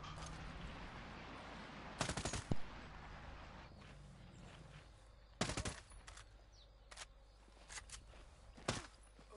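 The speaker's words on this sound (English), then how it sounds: "I'm really enjoying the SMGs with the burst recoil. Or the burst fire." Short SMG bursts crack out in the Ghost Recon Breakpoint video game, several separate rapid volleys spaced over a quiet background, with some fainter shots and footsteps between.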